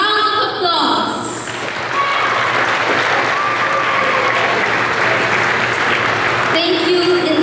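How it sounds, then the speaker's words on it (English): Families and friends at a junior high school graduation ceremony receiving applause from the hall, a broad sustained clapping that swells after a short spoken phrase and fills most of the stretch before fading into more talk. "give our beloved families and friends a big round of applause"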